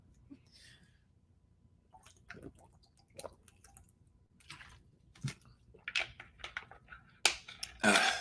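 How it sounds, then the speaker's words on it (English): A person sipping water, heard as soft, close wet sips, small liquid clicks and swallows scattered irregularly, growing louder with a couple of stronger gulps at the end. "Excuse me, having a sip of water right there."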